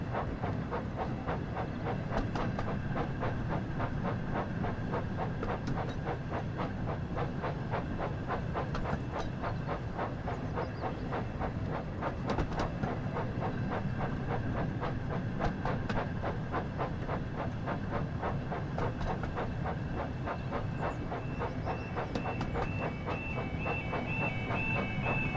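Thomas the steam engine shunts trucks in Train Sim World 5, with a steady chuffing and hiss, rhythmic clickety-clack of wheels and occasional sharp clanks over a continuous rumble.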